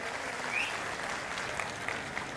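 Loud, steady applause from a large crowd at an outdoor election campaign rally in Latur, Maharashtra, sustained throughout with occasional louder bursts.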